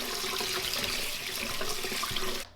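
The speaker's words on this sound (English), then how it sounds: "just take it out of the bag and just rinse off any of that gooey stuff that's on the outside" Running tap water splashing steadily as corned beef silverside is rinsed of its salty brine in a kitchen sink, a continuous close wash of water that cuts off abruptly at the end.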